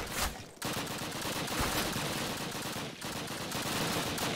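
Dense, continuous gunfire from a Call of Duty battle against a Panzer tank, loud and sustained with a brief break midway, no talk over it.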